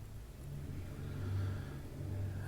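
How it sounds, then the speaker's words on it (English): A truck passes outside a building in a small Iowa town during harvest season, a muffled low engine rumble that swells and recedes steadily, heard faintly from indoors with no talking. "Another truck outside."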